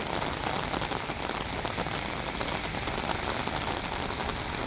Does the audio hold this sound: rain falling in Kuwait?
yes